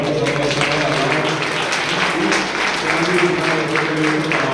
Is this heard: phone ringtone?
no